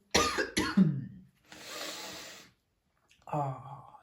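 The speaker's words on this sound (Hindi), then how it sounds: "खांसी पीछा नहीं छोड़ रही।" A person with a cold coughs hard twice up close, then wheezes with a long breathy exhale and a shorter rasping cough after a pause.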